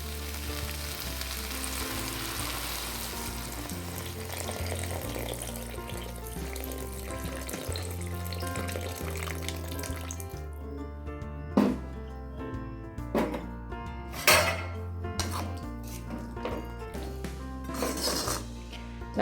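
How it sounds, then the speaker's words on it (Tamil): Tamarind water poured into okra frying in a pan, a steady sizzle and bubbling that turns to a louder hiss with sharp pops and spatters toward the end, close and alone with no talk. "ஸோ இந்த தண்ணியை இந்த வெண்டைக்காயோடு ஆட் பண்ணிக்கலாம்."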